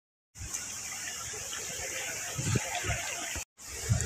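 River water rushes at the top of Langit-Langit Falls, a steady broadband gush that cuts out briefly near the end before resuming, with soft low knocks and thumps mixed in.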